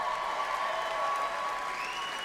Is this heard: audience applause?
yes